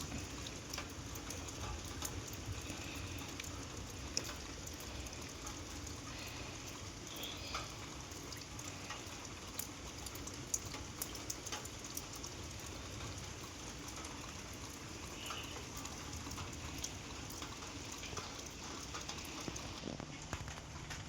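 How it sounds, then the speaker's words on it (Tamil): Steady rain falls outside at dawn in rural Odisha with thunder around, a continuous even patter of drops on surfaces that holds the whole time with no talking over it. "இன்னும் மழை வேற பெய்யுது."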